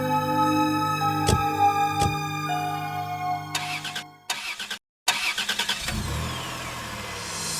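A car engine cranks and catches after earlier failed attempts, with a couple of sharp knocks before it, then settles into a steady running rumble close by, no talk over it.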